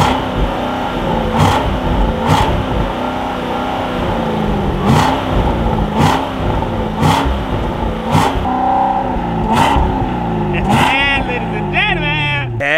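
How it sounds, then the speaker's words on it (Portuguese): A Chevrolet Corvette with stock exhaust revs repeatedly in a close, loud series of throttle blips, the engine note rising and falling in a steady rhythm, with people talking over it and excited voices near the end. "E olha o ronco que esse carro tem"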